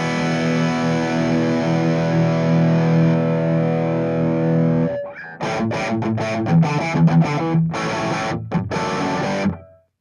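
Electric guitar driven through a Friedman Small Box high-gain distortion pedal with a Plexi-style voice: a long sustained distorted chord rings for about five seconds, then gives way to loud, choppy palm-muted riffing with sharp stops and gaps.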